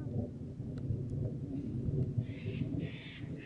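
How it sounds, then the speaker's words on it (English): Low thunder rumbles steadily from an ominous storm sky beside a creek or billabong. Crows caw faintly toward the end. "Ominous clouds. And thunder."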